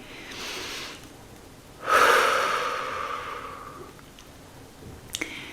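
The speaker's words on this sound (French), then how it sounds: "Je t'invite à faire cette respiration" Slow, deep breaths taken as a relaxation exercise: a soft inhale, then a long, loud exhale that fades gradually, followed by a faint click, with no talk over it.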